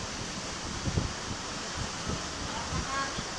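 Strong wind and rain roar in a steady wash of noise, with irregular low gusts buffeting the microphone, close and continuous without a break.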